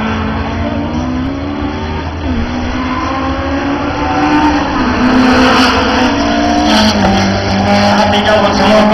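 A Ford Escort race car engine drones and revs close by at a circuit race, its pitch rising and falling as it accelerates, with a faint voice over it.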